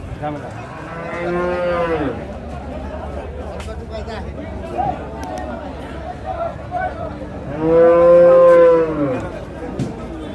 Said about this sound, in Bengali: বিশাল দেহে সাদা রঙের একটা গরু দেখা যাচ্ছে